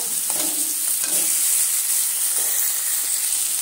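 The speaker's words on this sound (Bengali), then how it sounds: "এবার আমি এর মধ্যে দিয়ে দিচ্ছি সেই যে কুচিয়ে রাখা টমেটো" Loud steady sizzling and hiss of chopped tomato going into onions frying in hot oil, with a few soft stirring scrapes early on, close and continuous with no talk.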